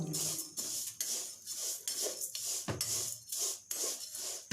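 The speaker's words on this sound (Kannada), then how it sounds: "ಸ್ವಲ್ಪ ಆಯಿಲ್ ಹಾಕ್ಕೊಂಡು ಚೆನ್ನಾಗಿ ಫ್ರೈ ಮಾಡ್ತೀವಿ ಬ್ರೌನ್ ಕಲರ್ ಬರೋವರೆಗೂ" Vermicelli fried in a little oil in a pan until browned, for vermicelli payasa; a close, steady sizzling hiss runs throughout, with repeated scraping and stirring knocks of a spoon against the pan, and no talking.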